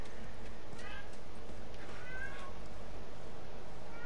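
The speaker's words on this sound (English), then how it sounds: "Sorry about my cat." A pet cat meows twice, faintly and somewhat muffled, under steady background noise from a live game stream.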